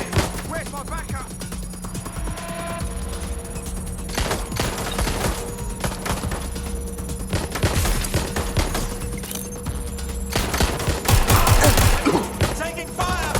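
Rapid gunfire in the video game Watch Dogs: Legion, with sustained automatic bursts and scattered sharp shots over about thirteen seconds, close and loud, mixed with game sound and brief voice lines.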